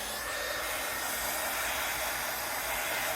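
A hair dryer blows steadily on paper being dried at a craft table, a constant close hiss and whoosh that never changes over its few seconds, with no talking.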